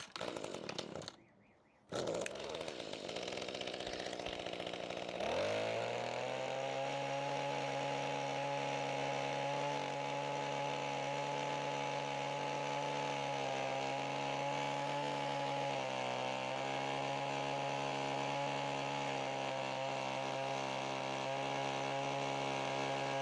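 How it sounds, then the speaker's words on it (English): A Mantis tiller's small gasoline engine revs up after a brief start and holds a loud, steady, buzzing drone as it rips through soil, with slight dips in pitch under load, close and continuous with no talking. "you can see the Mantis tiller tills in much quicker, and once it's down, you can just start ripping through"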